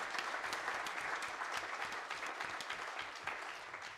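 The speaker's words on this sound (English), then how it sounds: "give her a round of applause" Town hall audience gives a sustained round of applause, dense continuous clapping from many hands at moderate distance, steady for the whole stretch with no talk over it.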